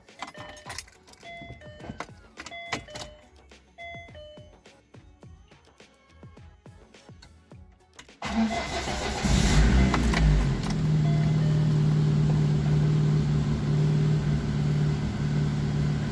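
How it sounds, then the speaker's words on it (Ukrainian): Keys jangle and rattle close by for several seconds before a VAZ 2114 engine cranks and catches, then settles into a loud, steady warm-up idle. "тому заводимо двигун, прогріваємо його до робочої температури"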